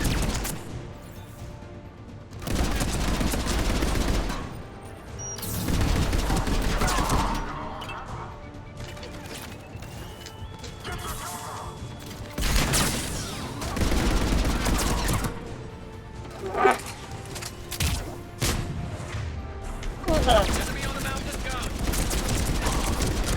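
Heavy automatic gunfire in a Mass Effect 3 firefight, loud sustained bursts and crashing impacts rolling in waves, with shouted voices heard in between.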